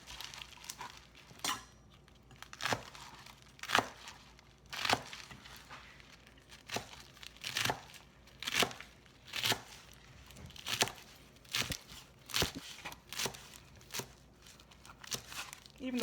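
A knife chops passion flower leaves and flowers on a board, a steady series of crisp, separate cuts about one per second, close and clear, with a voice talking quietly in between.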